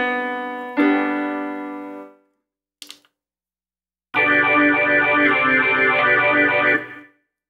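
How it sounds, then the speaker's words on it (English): A Casio Privia digital keyboard plays its built-in voices: a sustained chord fading out, a brief click, then a bright, dense layered chord holding for a few seconds before stopping, heard alone and up close. "This Casio Privia actually has sounds built in."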